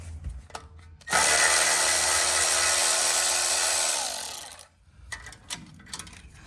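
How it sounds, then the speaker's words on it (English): Power tool spinning a 13mm socket to pull a bolt from a steering knuckle's end forging on a truck front end, one loud sustained whir of about three and a half seconds between quiet pauses. "I'll be using a 13mm socket to remove this bolt securing it to the end forging"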